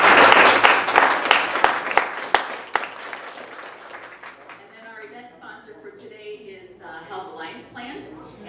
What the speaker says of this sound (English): So let's give them a big round of applause.